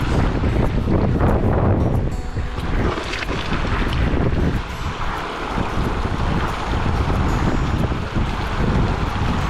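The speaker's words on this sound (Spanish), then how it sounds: "Hay algo de viento, sí." Strong wind buffets the microphone outdoors beside a river while fly fishing in Coyhaique, a loud continuous roar and rumble that gusts and eases throughout with no talking.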